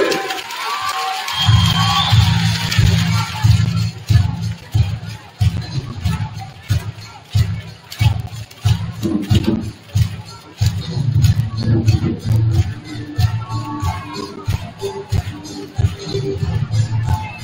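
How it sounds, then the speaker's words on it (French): Crowd at a women's basketball game in a French arena cheering and applauding a player, a loud sustained roar of claps and voices with an announcer talking over it. "allez, on applaudit bien fort, Kanaka, s'il vous plaît"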